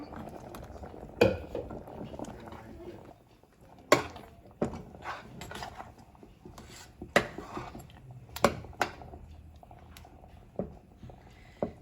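Mudakkathan leaf kali being stirred in a pot makes soft thick bubbling and scraping, with sharp spoon-on-metal clanks every few seconds, close by and without talk.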